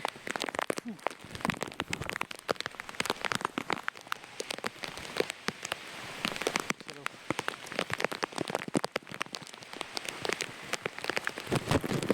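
Steady heavy rain patters and crackles on a surface near Mahuli Fort, continuous throughout with uneven bursts of louder drops.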